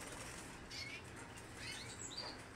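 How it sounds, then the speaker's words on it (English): Crested Stafford canaries flutter their wings inside a cage, giving soft, faint bursts of flapping with a few thin chirps over a quiet room hiss. "They'll end up flying down to the other side of the cage"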